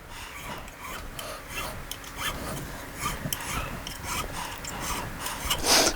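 A metal file rasps over the ends of freshly installed guitar frets to round off burrs, working in steady repeated strokes against the fretboard edge, close and moderately quiet, with no talking.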